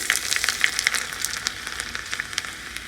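Mustard seeds, dried red chilies, cumin and four or five garlic cloves sizzling in smoking-hot oil for a tadka on Maggi noodles, bright crackling spits and pops close up, brief and without talk.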